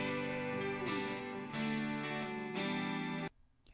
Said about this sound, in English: And then here is the analog delay.